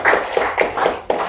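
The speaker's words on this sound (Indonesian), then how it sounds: "kita berikan tepuk tangan kepada Mas Zuhairi sekali lagi" A small audience gives a brief round of applause for a speaker at an Islamic lecture on Nusantara scholars' political thought, a few distinct claps ringing out close and sparse over just over a second.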